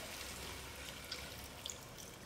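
Water pours into a pan of frying gram dal, a soft continuous splashing hiss with a few faint drips, quiet and close, with no talking.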